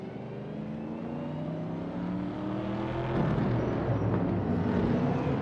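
A 1963 Alfa Romeo Giulia TZ races in a video game, its engine a steady, droning hum that builds slightly in pitch and loudness midway, heard alone without any voices.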